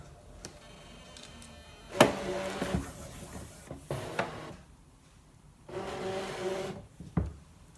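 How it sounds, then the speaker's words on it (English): A Brother ScanNCut machine scans a cutting mat loaded with card, giving off bursts of mechanical whirring and clicking as the mat is fed through, separated by quieter pauses, close and moderately loud. "I'm going to scan this mat through the machine and position these 2 designs"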